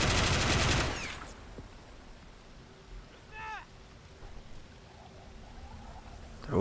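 Gunfire from toy army-men soldiers in a beach defence battle simulator game erupts as a dense, loud burst in the first second, then falls away to quiet ambience with a few faint distant effects.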